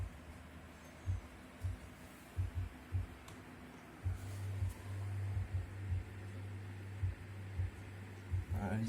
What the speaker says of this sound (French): J'entends les ventilos.